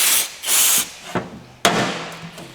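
Brake cleaner sprayed onto the front brakes of a Subaru, heard as two close bursts of aerosol hiss followed by a few sharp metallic clanks and knocks.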